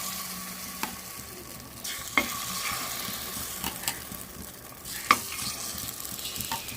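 Egg batter sizzles steadily in the pits of a paniyaram pan on a gas stove, a soft continuous fry with occasional sharp clicks and scrapes of stirring.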